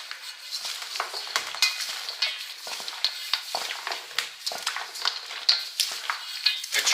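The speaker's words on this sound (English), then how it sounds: "We need to stir it in." Puppy chow being stirred to work powdered sugar into the mix: steady close scraping and rustling strokes of a utensil through the coated cereal, with no talking.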